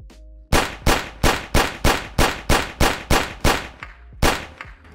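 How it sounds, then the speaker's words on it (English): A modded semi-automatic pistol fires about ten loud, evenly spaced shots in Fallout 4, each crack trailing off in a short decay before the next, with a brief pause before the last shot. "And now with only 11 shots, it puts down the deathclaw."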